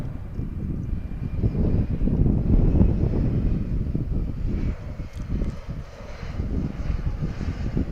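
A head-of-state airplane at DFW airport gives a loud, steady, broad engine roar that swells and eases over several seconds, with wind buffeting the microphone.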